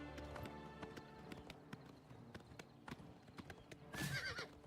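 A horse in the Oblivion Remastered video game clip-clops with a steady run of sharp hoof strikes, then gives a loud close whinny near the end, with no talking.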